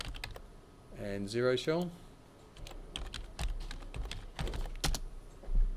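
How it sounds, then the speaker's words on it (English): Key clicks from typing on a computer keyboard, scattered taps and short bursts that are fairly faint, following a brief stretch of speech. "So we'll type in admin"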